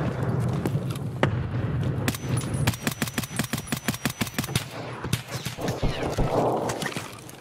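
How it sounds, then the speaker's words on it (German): Rapid gunfire in Escape From Tarkov, a string of sharp evenly spaced shots in the middle of the stretch, set against low ambient rumble and scattered other noises. "So, einer hat geschossen."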